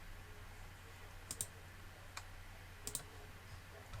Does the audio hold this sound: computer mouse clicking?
yes